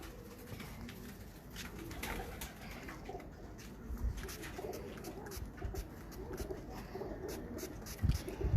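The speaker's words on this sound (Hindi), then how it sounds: "ये ओरिजिनल डब वाले कबूतर है भाई" Dub pigeons coo softly in a loft, low murmuring calls recurring over steady background noise with occasional faint clicks and shuffles, no voices heard.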